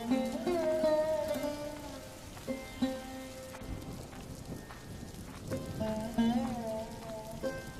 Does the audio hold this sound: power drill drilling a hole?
no